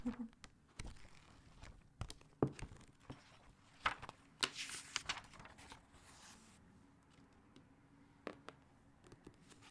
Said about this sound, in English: I'm going to do a little bit of the page turning sounds though.